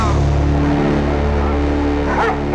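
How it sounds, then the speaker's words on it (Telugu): Dogs barking over a steady ringing tone, the barks partly buried beneath the continuous drone, close and fairly loud. "అటు టెలిఫోన్ ఇటు కుక్కలు ఒకదానికోటి పోటీ పడి అరుస్తున్నాయి"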